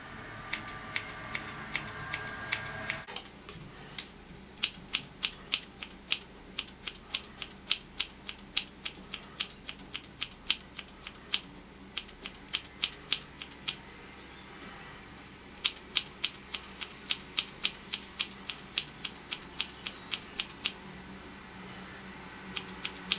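Scissors snip through a hair fringe being cut by the person wearing it, a long series of sharp, close clicks in uneven bursts over a faint steady background hum, no talk.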